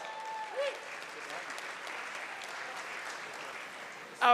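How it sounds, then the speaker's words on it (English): Audience applause at an academic and athletics award banquet, a steady wash of clapping from a crowd that holds for several seconds before fading, with a short voice or noise near the start and at the end. "Let's give her a round of applause."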